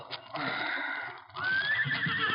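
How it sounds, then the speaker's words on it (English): A horse whinnies close by as a radio-drama sound effect, a short neighing call rising and wavering in pitch, heard alone and fairly clear. "sat up as he heard the whinny of a horse close by"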